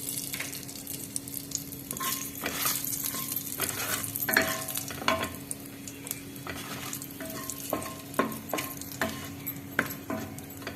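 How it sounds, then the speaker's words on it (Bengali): Cinnamon sticks, cardamom pods and cloves frying in hot oil for a fish roe, pointed gourd and potato curry, a steady crackling sizzle with scattered spoon clinks against the pan, close and fairly quiet. "তেলের উপরে দিয়ে দুটি দারচিনি দিচ্ছি তিনটে এলাচ দিচ্ছি আর দুটো লবঙ্গ দিচ্ছি"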